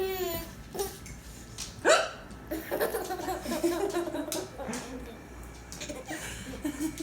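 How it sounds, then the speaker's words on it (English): A woman hiccuping in short sharp bursts, one loud hic standing out near the middle, mixed with chuckles and laughter and a child's babbling close by. "Does mommy have the hiccups?"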